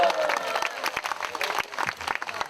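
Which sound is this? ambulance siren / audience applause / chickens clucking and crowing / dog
audience applause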